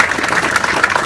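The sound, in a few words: applause for the OH-58D static display crew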